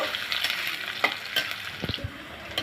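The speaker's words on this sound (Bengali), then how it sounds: "পেঁয়াজটা নেড়ে চেড়ে হালকা করে ভেজে নিব" Chopped onion fries in soybean oil in a pan with dried chillies and cumin, a steady sizzle broken by scraping stirs and clinks of the spoon, close and fairly loud.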